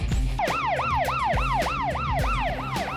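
A wailing ambulance siren in a film scene rises and falls in steady, repeated sweeps, loud and close over a low rumbling vehicle backdrop, with no talk.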